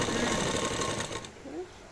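A sewing machine stitches a folded kurti hem in a fast, steady whir that cuts off partway through, with someone speaking afterward.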